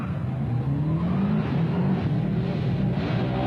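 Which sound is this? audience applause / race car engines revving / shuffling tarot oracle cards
race car engines revving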